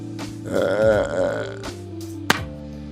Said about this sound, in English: let out a loud burp as she slammed her mug down on the table